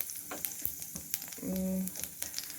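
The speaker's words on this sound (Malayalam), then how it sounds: "ഉലുവ നല്ല ജീരകം എല്ലാം കൂടെയുള്ള മിക്സാണ് ഇതിട്ട് നമുക്ക് മൂപ്പിക്കണം" Fenugreek and cumin seeds crackle faintly in hot oil while being roasted for a vegetable masala. A few small pops and scrapes of stirring are heard, and a brief tonal hum comes partway through.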